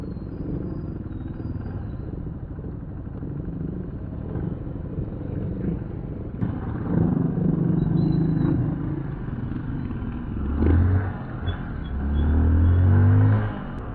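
Steady rumble of passing road traffic near a bridge in La Paz, Leyte, with engines swelling and fading as vehicles go by nearby.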